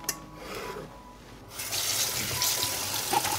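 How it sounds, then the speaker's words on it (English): Peppers being rinsed under a running kitchen tap, a steady close splash of water into the sink that grows louder and fuller partway through, with no talking. "I cleaned the peppers and now I'm going to wash them."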